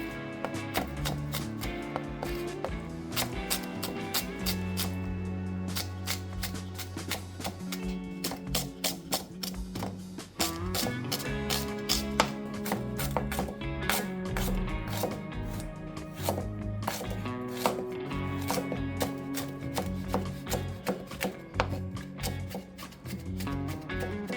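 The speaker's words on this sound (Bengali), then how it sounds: "চারটে কাঁচা লঙ্কা এটা আমি কেটে নেব এটাকে আবার ছোট ছোট করে একটু কুচি কুচি করে নেব" Green chilies are finely chopped with a knife on a board, a long run of rapid, crisp taps in quick bursts with a brief pause partway through, close and steady throughout.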